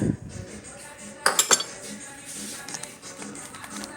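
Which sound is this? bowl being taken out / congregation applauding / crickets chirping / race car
bowl being taken out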